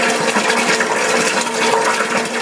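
Beer wort, a mint chocolate imperial stout, pouring into a fermentation vessel, a loud steady rush of liquid splashing into the tank without pause.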